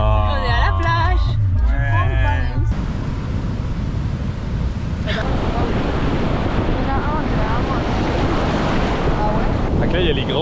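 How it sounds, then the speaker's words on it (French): Big ocean waves surge and crash on a beach, a steady broad roar of surf and wind buffeting the microphone, with people talking excitedly over it at the start. "il y a les grosses vagues, ils arrivent, ils défoncent tout, ils ramènent"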